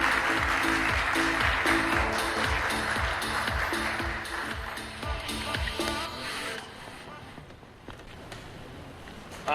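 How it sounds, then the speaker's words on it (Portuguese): Applause in a corporate event hall for the CEO of Amicorp Fund Services, a broad crackle of clapping that starts loud and gradually thins and fades over several seconds. "Palmas para ele."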